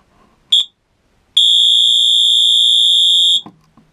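A fire alarm under test blares a continuous piercing tone for about two seconds after a short initial chirp, loud and close, then cuts off.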